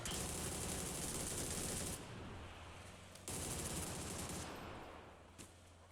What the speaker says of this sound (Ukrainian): А що це хтось стріляв